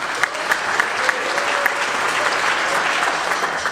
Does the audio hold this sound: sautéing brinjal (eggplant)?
no